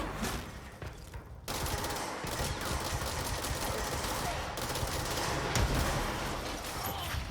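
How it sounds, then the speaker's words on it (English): Loud rocket launch and rolling gunfire in the game Control, a dense continuous burst of blasts and shots with no clear break, carrying on from a short dip near the start. "Did you just shoot a rocket at a wall?"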